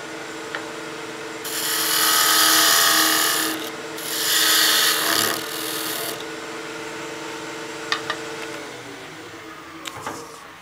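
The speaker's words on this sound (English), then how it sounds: "Using the long end of the skew as a planing cut" A skew chisel makes a long planing cut on a birdhouse ornament spinning on a wood lathe, producing two loud sustained hissing shaves with a gap between them, followed by faint taps and light scrapes over a steady motor hum.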